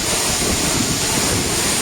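Agaya Gangai waterfall in the Kolli Hills roars as a dense, unbroken torrent of falling water, loud and close with no pauses.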